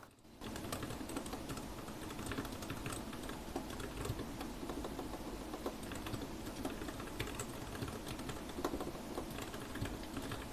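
Continuous fast typing on an RK61 60% compact mechanical computer keyboard, dense clattering keystrokes heard close and alone throughout.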